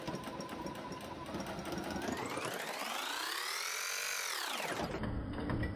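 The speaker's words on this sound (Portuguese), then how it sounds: "Aí, agora, eu vou na máquina. E vou passar a costura todinha aqui." A sewing machine stitching along a heart outline drawn on fabric gives a continuous close whir whose pitch rises and then falls again as the stitching speeds up and slows down.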